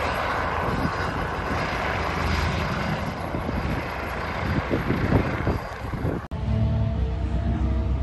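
A loud, steady rotor and engine roar from a nearby helicopter at Santa Pod drag-racing raceway, broadband and continuous, with a brief dropout before the noise resumes.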